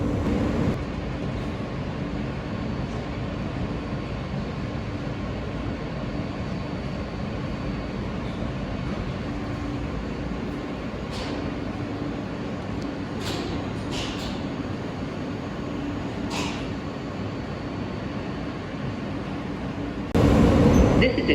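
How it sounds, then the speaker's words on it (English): A New York subway F local train runs toward Jackson Heights–Roosevelt Avenue, a steady loud rumble and roar of wheels on track, with occasional squeals and clanks and a louder burst near the end. "This is a Jackson Heights-Roosevelt Avenue bound F local train."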